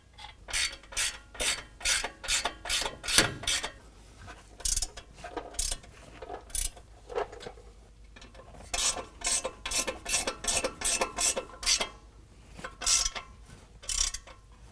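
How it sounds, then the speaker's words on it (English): An 18mm wrench ratcheting as it snugs down factory hardware on a 2021 Ford F-150 suspension during a leveling kit install: rapid bursts of close, sharp ratchet clicks repeating in rhythmic strokes with short pauses. "We're going to snug this down with our 18mm wrench, and then we're going to tighten it down to 85 foot-pounds."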